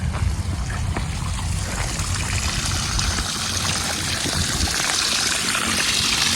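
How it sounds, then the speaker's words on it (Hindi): Water trickles and flows steadily along an irrigation channel feeding rice paddy fields, a continuous close babbling rush with no voices. "इस तरह का पानी है, और ये पानी ना सारे खेतों में जा रहा है।"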